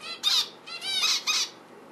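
Sharp, shrill squawks from a small pet rescue bird, three harsh calls in two seconds, close and loud with brief pauses between them and no talking.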